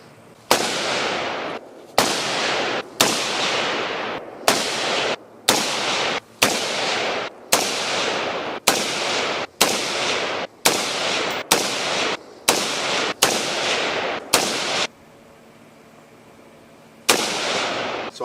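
Loud, close rifle shots from a PA-15 rifle ring out one after another at a steady pace, about fifteen cracks with sharp echoes, then a short pause before one more shot.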